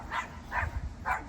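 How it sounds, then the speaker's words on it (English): A small dog gives three short, sharp barks or yips, evenly spaced and close by, over a low background hum. "I do apologize for my noisy little dog."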